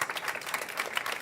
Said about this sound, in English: so big applause for these guys